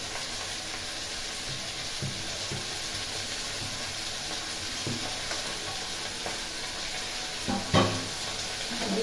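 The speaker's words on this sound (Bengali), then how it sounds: "দিয়ে এটাকে আবার কষাতে থাকবো" A spiced mixture sizzles and gets stirred in a pan with chilli, cumin and coriander powders, a steady fry hiss under occasional scraping stirs and a sharper clatter near the end.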